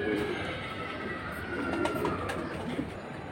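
Pigeons at a pigeon market coo faintly in the background under a continuous murmur of crowd noise and talking, with a few soft rustles and distant clicks.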